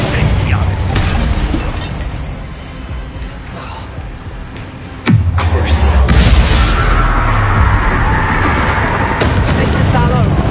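A fire spell cast during a duel in a Hogwarts video game erupts in one sudden whooshing burst midway, over a busy wash of combat noise and game voices.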